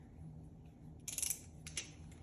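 A razor blade slices through a stencil for a decorative finish restoration, giving two short, crisp scratchy bursts, the first a quick cluster of strokes, the second a single brief scrape, close and fairly quiet over a low background hum.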